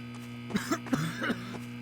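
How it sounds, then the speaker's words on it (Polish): A few short coughs, close and moderately loud, over a steady electrical hum during play of a Garry's Mod Backrooms remake. "A ty kaszlesz?"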